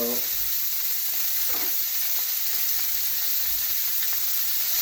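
Steak frying in a stainless steel pan, a constant close hiss and sizzle with faint crackles, steady throughout with no talk.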